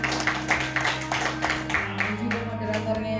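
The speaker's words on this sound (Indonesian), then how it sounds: "Kita beri tepuk tangan untuk beliau berdua" An audience at an Indonesian cultural talk gives a short round of rhythmic clapping for two speakers, steady and moderately close, while a person keeps talking over it.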